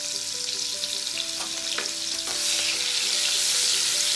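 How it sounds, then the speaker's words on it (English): Split green chilies sauté in hot oil in a pan for noodles, a close, steady sizzle and hiss that swells louder partway through, with a few soft stirring knocks and no voices. "Let it saute a bit and release the aroma and the medicinal property into the oil. We put the split green chili."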